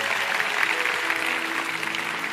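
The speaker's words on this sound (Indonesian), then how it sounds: "Kasih tepuk tangan untuk mereka." A congregation claps during a church service, a steady wash of many hands at moderate volume with a faint sustained tone beneath it.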